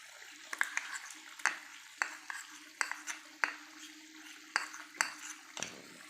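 Spoon stirring and scraping methi chicken in a metal pan, with an irregular series of sharp clinks and scrapes over a low steady sizzle of frying in oil.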